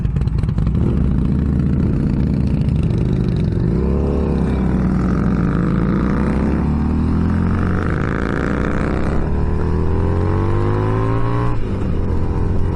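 A 2019 Harley-Davidson Street Rod motorcycle engine revs up and down in repeated loud, close bursts, its muffler popping as the revs fall, with no talking.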